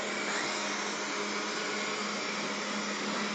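A robot vacuum cleaner runs indoors with a steady, continuous motor whir and brush hiss, holding level and close throughout with no talk.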